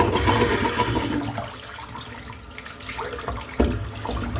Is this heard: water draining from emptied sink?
yes